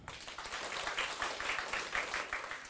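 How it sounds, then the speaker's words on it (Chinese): Audience clapping at a spiritual lecture on Seth teachings: steady, dense applause from a room of listeners, fairly loud and continuous with a loose rhythmic pulse, no talking over it. "鼓掌一下。"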